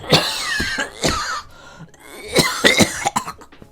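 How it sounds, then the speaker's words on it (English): A person goes into a coughing fit, several harsh coughs in quick bursts with short gaps, loud and close. "go into a coughing fit"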